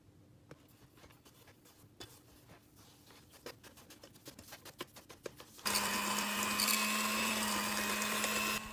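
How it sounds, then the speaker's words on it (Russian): A hand mixer starts up and whirs steadily and loudly while beating eggs, sugar and salt, after a few seconds of faint clicks and tapping in a kitchen. "А кто, как и я, пользуется ручным миксером, будем взбивать постепенно"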